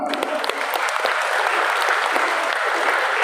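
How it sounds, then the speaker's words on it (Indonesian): Crowd applause for a youth group at a Christmas community gathering in Tapanuli Tengah, steady dense clapping sustained throughout, loud and even, with faint voices beneath. "tepuk tangan."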